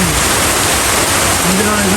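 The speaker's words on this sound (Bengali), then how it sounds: "প্রচুর জোরে বৃষ্টি শুরু হয়েছে দেখো কি অবস্থা আল্লাহ রে এত বৃষ্টি আর বৃষ্টি" Heavy rain pours steadily outdoors, a dense, even roar of falling water that fills the whole stretch without a break.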